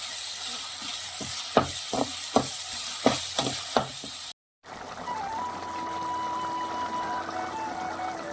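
Food fries and sizzles in a pan with a steady hiss, broken by several sharp stirring scrapes early on, a brief drop-out, then a calmer continuous sizzle.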